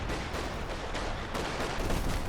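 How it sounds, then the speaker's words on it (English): Base howitzer artillery fire in Company of Heroes 2, a dense run of booming shell impacts and gunfire rolling continuously across the battlefield, fairly loud with no voices. "Base howitzer fire out here."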